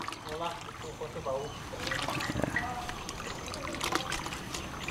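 Water trickles and pours steadily into an organic fertilizer solution outdoors, a continuous moderate splashing stream with faint voices in the background.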